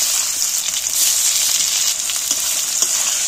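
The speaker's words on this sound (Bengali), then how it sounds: "তেজপাতা আর গোটা জিরে, গোটা কতে কাটা পেঁয়াজগুলো আমি তুলে দিচ্ছি এর মধ্যে" Sliced onions with a bay leaf and whole cumin seeds sizzle steadily in hot oil in a pan, a dense, even frying hiss that runs without pause, with no voices over it.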